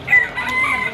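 A single short rooster crow at a gamecock seller's place in Malabon, loud and close, lasting about a second.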